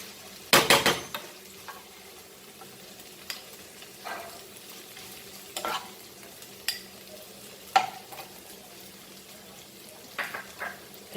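A spoon stirs okra frying in a pan for Goan pork sausages with bhindi, giving intermittent scraping clatters against the metal at irregular intervals over a quiet background sizzle.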